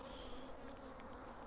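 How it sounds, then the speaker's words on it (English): Honey bees hum at a crowded beehive, a steady dense buzzing drone, close and constant with no voices. "there's a lot of damn bees in there right now"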